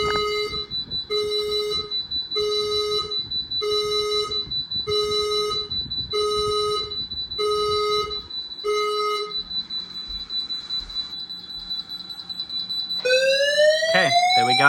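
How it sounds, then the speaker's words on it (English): A fire alarm system in a new house sounds a repeating two-tone electronic pulse in steady, regular bursts, then a spoken evacuation-style announcement tone, before a rising, sweeping siren tone takes over near the end. "The fire alarm system has operated."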